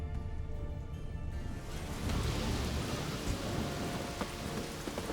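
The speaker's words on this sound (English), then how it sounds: "A storm." A thunderstorm in The Witcher video game, set at Lofoten: steady heavy rain pours down as a low thunder rumble swells underneath.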